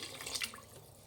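Water poured into washed rice in a pot, a short, faint trickle and splash of running water, alone and close.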